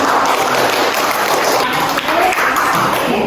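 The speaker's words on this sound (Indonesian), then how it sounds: "kita beri tepuk tangan yang meriah" A classroom of students giving a lively round of applause for a group that just performed, loud and close, a busy, even patter of many hands with a brief dip midway.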